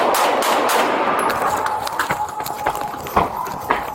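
A police officer fires several sharp gunshots in rapid bursts close by, the loud cracks punctuating an otherwise noisy, chaotic outdoor scene with voices mixed in.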